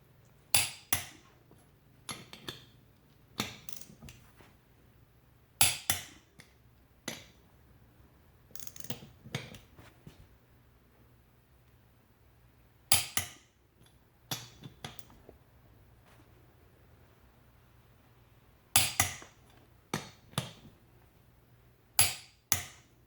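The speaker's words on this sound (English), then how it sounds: "little torque wrench action here" Torque wrench tightening a wheel spacer on a car, giving sharp metallic clicks in irregular bursts and clusters spread across the stretch, close and fairly loud with quiet gaps between.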